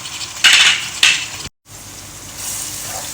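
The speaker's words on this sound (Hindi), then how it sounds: "ये मैं खड़े मसाले इसमें शामिल कर रही हूँ" Whole spices hit hot oil in a pot for chicken biryani, two sharp sizzling bursts that then settle into a steady, fainter frying hiss, with a brief dropout midway.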